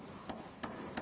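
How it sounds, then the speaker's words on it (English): A hammer drives a ridge spike into the top ridge plate during a roof ridge installation: three evenly spaced sharp strikes, close and crisp, over a faint background hum, with no talking. "To secure the ridge spike, simply place over the ridge"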